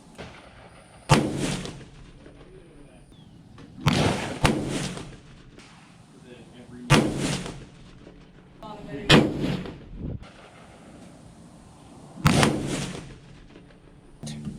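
Five loud rifle shots ring out at a range during load development with new brass, each a sharp crack with a short echoing tail, spaced a few seconds apart.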